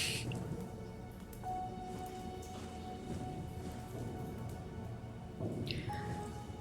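Underwater ambience in the video game SOMA: a muffled, murky wash with soft dripping and squishing sounds, faint tonal hums and occasional bubbly swells, all at a steady moderate level with no voices.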